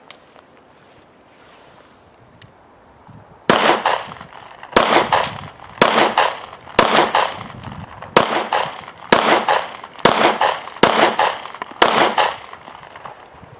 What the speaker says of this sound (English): I'm going to go ahead and shoot the target and do some accuracy tests on it